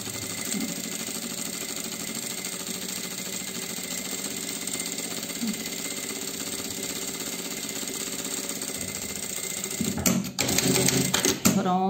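Sewing machine stitching half a centimetre in around the edge of a bikini, a steady mechanical whir and rattle running continuously, with a brief pause and some handling clatter near the end.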